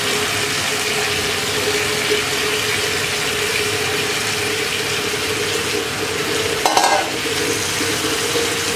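Crab and potato pieces fry and get stirred in a pan for a crab curry, giving a steady, dense sizzle with a brief scraping clatter near the end, close and continuous.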